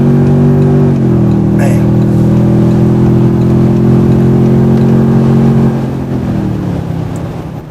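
A Toyota Tundra TRD Pro truck accelerates with a loud, steady engine drone whose pitch shifts slightly as it pulls, while someone speaks briefly over it.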